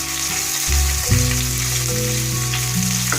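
Parshe fish lightly frying in oil, a loud steady sizzle close by, with a low hum under it and a few soft spits, no voices present.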